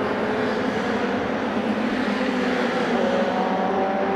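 An MRF 2000 single-seater race car screams past the line at full throttle, a loud, steady engine wail sustained throughout with no talk.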